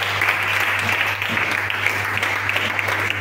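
A church congregation claps and cheers in praise, dense continuous applause holding at a loud, even level.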